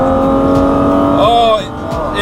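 BMW E36 M3 Evolution engine pulling hard under acceleration, a loud steady drone whose pitch climbs and then falls away, with excited voices talking over it.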